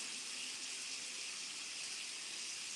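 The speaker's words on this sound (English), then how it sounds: "go over to a hot water faucet, and I'm just going to go into the bathroom here" Hot water running from a bathroom faucet during water heater maintenance, a steady broadband rush that holds constant and fairly loud throughout, with no talk over it.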